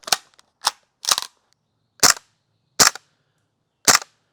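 A green gas airsoft Vector replica gun fires BBs in six sharp, loud single shots at irregular intervals, each a crisp snapping pop with short gaps of silence between, no talking.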